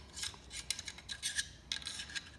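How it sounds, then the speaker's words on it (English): An AR-15 charging handle slides and scrapes into the upper receiver during reassembly after a field strip, giving a few short metallic rasps and rubs close by with no voices. "You're just gonna put your charging handle in."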